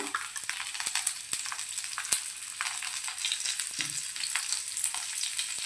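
Karli fish frying in hot oil in a pan over a medium flame, a steady close hiss and crackle with scattered sharp pops, continuous for several seconds.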